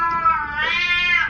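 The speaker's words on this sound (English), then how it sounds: "Oh, hey, it's my cat." A cat meows once, a close, clear drawn-out cry with a rising, wavering tone lasting about a second over quiet background hum.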